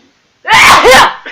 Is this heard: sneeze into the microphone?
yes